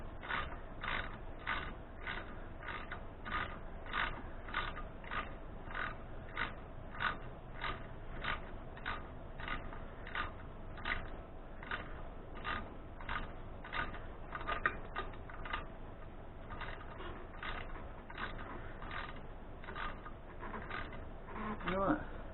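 A socket wrench with a deep well socket tightens an engine bolt while assembling a bike engine, giving a steady run of rapid ratcheting clicks that repeat evenly for the whole stretch, close and fairly quiet, with no voices.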